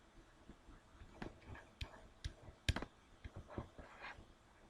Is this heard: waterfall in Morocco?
no